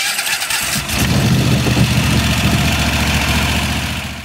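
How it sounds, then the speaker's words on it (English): A Kohler SV-series small engine (SV710–SV840 range), fitted with a new starter, cranks briefly and then catches, settling into a steady, loud running drone with a deep low-end throb. "I'll go ahead and turn the key over and engage this new starter."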